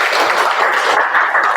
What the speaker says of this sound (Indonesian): Tepuk tangan untuk Dinan.